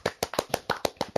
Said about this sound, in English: A stand ovation.